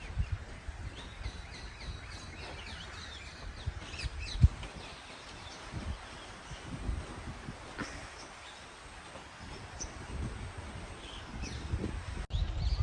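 Parrots call from palm trees near Hyderabad as faint chirps and squawks scattered over a steady rustling outdoor background, with no one speaking.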